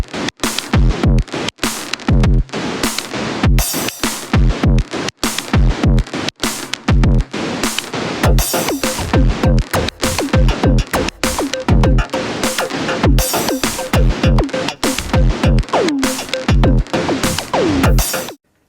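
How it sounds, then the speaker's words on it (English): Drum machine beat with snare and clap hitting on the same step, giving a loud, crunchy, steady pattern that pounds along without a break and with no voices. "we're combining a snare and a clap on the same step, so we get a stronger, crunchier, punchier tsh"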